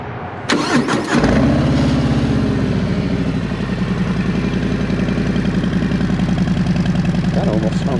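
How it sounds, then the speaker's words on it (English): A 2022 Harley-Davidson Fat Bob 114 fitted with a Cobra El Diablo 4-inch exhaust cranks and fires up, then settles into a loud, deep, lumpy idle that rumbles on steadily close by. "Let's do a sound check on it real quick."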